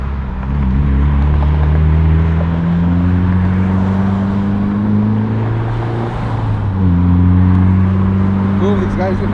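A Mitsubishi Evo IX with an upgraded turbo cruises on a freeway. The cabin carries a loud, steady harmonic engine drone whose pitch shifts slightly as the car holds speed and then rises again.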